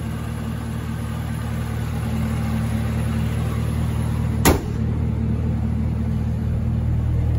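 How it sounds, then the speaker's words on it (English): A 2019 Chevrolet Camaro ZL1 supercharged V8 idles steadily, a low, even rumble with a constant tonal hum, interrupted by a single brief sharp click midway. "Perfect engine. I love that engine sound."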